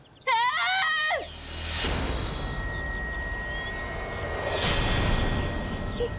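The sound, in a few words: woman screaming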